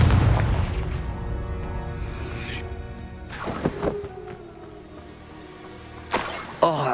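A Confringo blasting spell in Hogwarts Legacy on PS4 fires off as heavy booming explosions: two sharp blasts a few seconds apart, each with a rumbling, crackling tail, over low game ambience.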